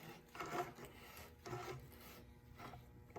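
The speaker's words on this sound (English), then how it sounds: "I've always had luck with just tightening these hand tight with the oil filter wrench" An oil filter wrench tightens the oil filter cap on a 2006-2011 BMW e90 3 Series, making a few quiet, close rasping strokes that come in short bursts with no talking.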